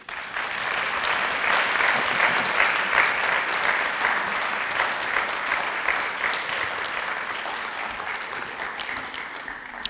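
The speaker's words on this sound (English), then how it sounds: "How about a nice round of applause again for our inductees into the Hall of Fame?" A roomful of people at a senior center's Hall of Fame induction ceremony break into sustained applause, a dense, even roar of clapping that holds for ten seconds before easing slightly at the end.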